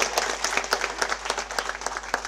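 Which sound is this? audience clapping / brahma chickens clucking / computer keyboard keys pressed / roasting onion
audience clapping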